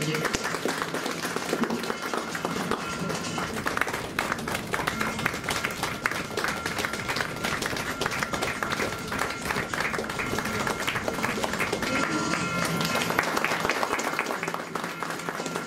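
An audience claps steadily and dense applause fills the hall at a women's honour award ceremony; the clapping runs continuously at a strong level, with voices mixed into the crowd noise.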